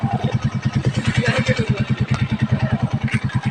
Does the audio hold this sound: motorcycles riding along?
yes